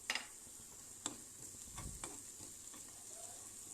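Butter with onion and mint frying in a pan, a faint, steady sizzle with a few sharp clicks and light stirring scrapes.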